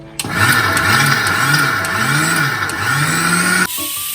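Mixer grinder blending grated coconut with no water added, for a Kerala beef curry; a loud motor whine starts abruptly, surges in speed several times, then cuts off after about three and a half seconds.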